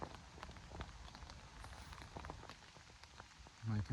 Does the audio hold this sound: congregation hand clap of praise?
no